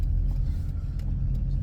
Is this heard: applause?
no